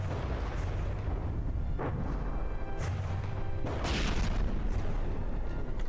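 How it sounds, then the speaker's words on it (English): Bombs going off in the naval combat game From the Depths, a few muffled bursts and crashing booms rising over a constant low rumble of battle noise, with no speech. "More bombs popping in here."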